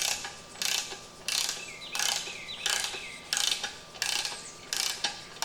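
Ratchet socket wrench worked on a Mercury 60 HP outboard motor, giving about eight evenly spaced bursts of rapid clicking, close and clear, with no talk.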